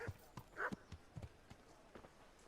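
Horse hooves clip-clop in the medieval role-playing game Kingdom Come Deliverance, a quick run of soft, separate thuds at moderate distance with a faint background hum.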